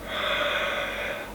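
A single breathy yawn lasts just over a second, close and fairly loud, as an airy inhale that swells and then trails off, with no speech over it.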